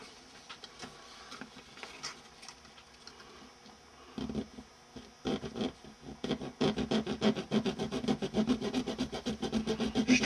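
Hand-cutting a thin plastic model kit part along its cut line, a vent post kit bash: soft rubbing, rasping saw strokes that start sparse and faint, then build into a dense, steady, close rhythm.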